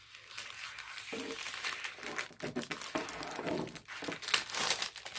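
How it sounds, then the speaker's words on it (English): Crinkly plastic packaging for a craft unboxing being cut open, with bursts of close crackling and crumpling plus a few sharp snips, continuous and uneven, with no one talking. "we'll just cut this, make it a little easier and a little less noisy probably"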